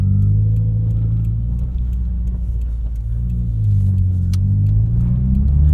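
A modified 2020 Subaru WRX with a 6-speed manual pulls hard into boost, its engine a steady, loud low rumble heard from inside the cabin, droning evenly with a slight rise toward the end.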